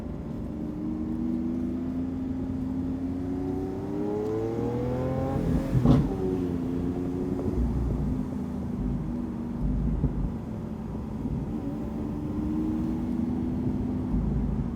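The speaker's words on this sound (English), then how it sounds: "When that exhaust opens up and you really hear the car" A 2015 Lamborghini Aventador Roadster V12 revs hard, its deep exhaust note climbing and falling in pitch as the throttle opens and eases, loud and continuous.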